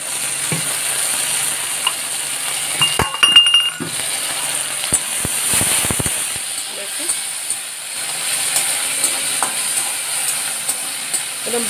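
Dried shrimp fry in hot oil with garlic, a soft steady sizzle broken by clattering stirring and scraping in the pan, up close and moderately loud.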